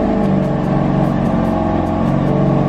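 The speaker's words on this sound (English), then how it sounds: "let's go ahead and get inside the car, start her up" A BMW F8X engine runs close by, giving a loud, steady idle with a rough, pulsing rumble that holds evenly throughout with no voices.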